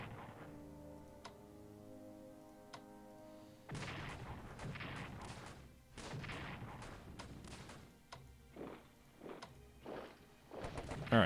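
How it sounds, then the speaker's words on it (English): Artillery bombards Bologna in the Strategic Command WWI strategy game, with a series of heavy, booming blasts that repeat irregularly after a quiet musical start, fairly faint overall. "Let's bombard Bologna here."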